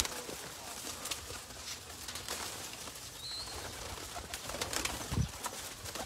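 Pigeons, likely high-class Taddy birds, give soft low coos now and then amid a busy background of rustling and ambient noise, with a brief low rumble near the end.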